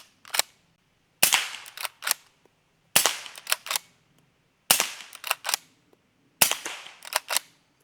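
A Henry 300 Blackout rifle fires five sharp, loud shots outdoors, each crack trailed by brief echoes and clatter, spaced about two seconds apart, with no talking.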